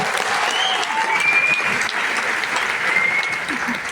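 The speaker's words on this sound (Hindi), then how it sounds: "एक बार जोरदार तालियां" Loud, dense applause from a seminar audience fills the room continuously, steady throughout with a few faint whistle-like tones riding over it.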